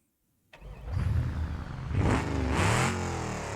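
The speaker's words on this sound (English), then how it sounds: "Let's see what 5-litre V8 sounds like and what it can do." A 5-litre V8 in a Holden VL in BeamNG.Drive starts up after a brief silence, then idles and revs twice, loud and close.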